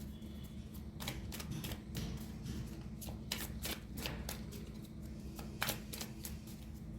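Tarot cards shuffled and drawn during a Hindi pick-a-card reading, giving a steady run of crisp riffling snaps and flicks close to the mic, with no talking over them.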